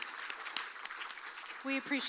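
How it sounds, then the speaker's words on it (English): Light, scattered clapping from a pageant audience at a fall festival, thinning out into sparse individual claps before a voice starts speaking near the end. "please give them another round of applause"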